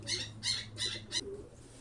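Pigeons in a breeder's cage give soft, low coos, with four brief, bright rustling bursts in quick succession, close and fairly quiet with no talking.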